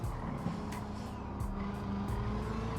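A Corvette C7 ZR1 with a 6.2-litre supercharged V8 in Gran Turismo 7, a steady loud engine drone with rising and falling revs and brief tyre-like squeals, heard alone without talk.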